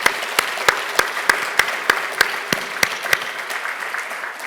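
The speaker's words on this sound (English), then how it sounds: "we need to give him a big round of applause" A small audience at a book event gives a round of applause for a Booker Prize-winning author. The clapping is sparse and distinct, with sharp individual claps landing at a steady rhythm over a soft bed of crowd noise.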